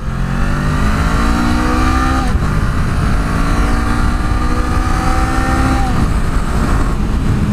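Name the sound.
Honda Rebel 500 motorcycle accelerating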